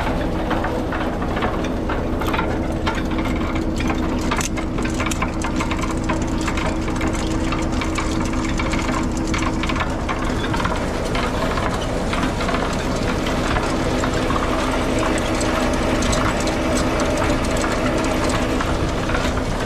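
A sawmill powered by a newer tractor through its PTO runs steadily and loudly throughout, a dense, unbroken mechanical roar with rattling and a low engine drone.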